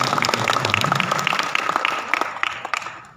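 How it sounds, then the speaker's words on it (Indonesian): Audience applause at a formal gathering in North Sulawesi, a steady patter of many hands clapping that fades slightly toward the end. "Tepuk tangan sekali lagi."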